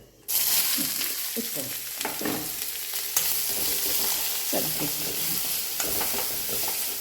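Carrot, onion and green chili fry in a pan, with a steady sizzle that holds throughout while a utensil scrapes and stirs in repeated bursts, close and fairly loud, with no talking.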